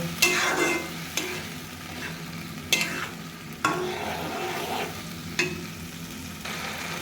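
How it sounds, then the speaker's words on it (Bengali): Ground spices with ginger, garlic and tomato being stir-fried in a pan, a steady sizzle broken by repeated sharp scrapes of a spatula, close and moderately loud, with no talking. "এখন ভালো করে মশলাগুলো কষাই নেব"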